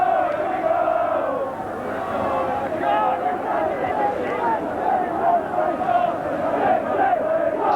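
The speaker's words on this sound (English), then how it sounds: "To the delight of the Bloomfield Road crowd." A large football crowd at Bloomfield Road, Blackpool, roars and chants in a sustained swell during a Fourth Division match against York City, a dense stadium din throughout.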